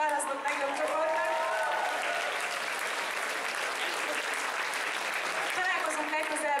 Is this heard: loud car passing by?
no